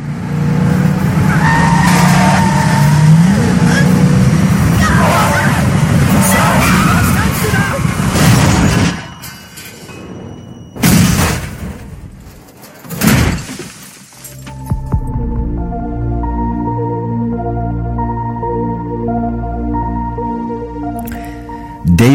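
A car crash in a film scene, with skidding, a sharp impact and shattering glass cutting through busy mixed sound before tonal music swells in the second half.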